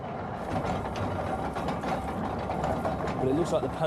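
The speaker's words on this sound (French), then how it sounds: "On dirait que le poney actionne bien le broyeur." A pony-driven stone apple crusher with two toothed stones grinds apples on an Edwardian farm, a continuous dense rumbling and grating churn with clicking mechanical bits, close and steady.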